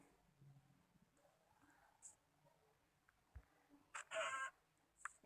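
A Minecraft chicken gives a few short clucks late on, faint and quiet amid soft game ambience and low talk.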